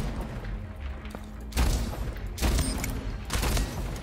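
Gunfire in the shooter game Splitgate: a low rumble breaks into three loud bursts of rapid shots, each flaring and fading over a few seconds.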